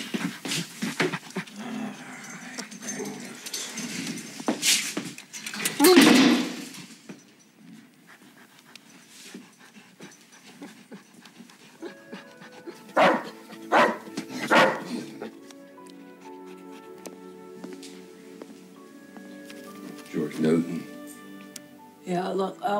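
A dog at a pound whimpers, pants and barks, loud and close at first, then intermittent yelps and whines while people talk over it.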